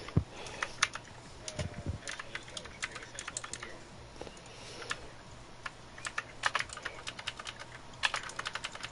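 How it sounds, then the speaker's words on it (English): Keys clack on a typewriter in irregular bursts of sharp taps, close but fairly quiet under a faint background hum, with no talking heard. "please ignore the noises of my typewriter"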